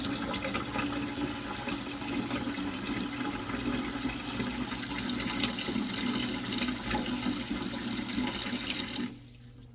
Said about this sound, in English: And I'll fill it this way with cold water.